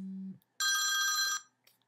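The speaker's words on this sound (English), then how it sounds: "Phone's ringing there." A T-Mobile G1 mobile phone rings, a short low tone followed by a brighter electronic ring burst lasting under a second, fairly quiet and with no talk over it.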